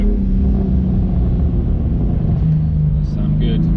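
A BMW M4 G83 with an R44 titanium exhaust driving in traffic, a steady low engine rumble throughout, with people talking over it inside the car.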